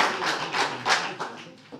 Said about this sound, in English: I will just give her a small applause.